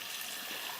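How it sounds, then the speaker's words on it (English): Cold water runs from a dispenser set to cold mode, a soft, steady hiss-like stream lasting under a second, faint and alone. "now I'm going to set this on cold mode because we need an extra 2 cups of cold water"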